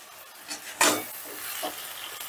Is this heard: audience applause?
no